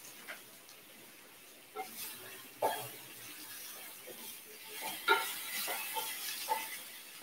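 Chickpeas with chopped garlic sauteing in coconut oil over medium heat, a soft steady sizzle broken by a few distinct scrapes and clinks as they are stirred, growing livelier toward the end.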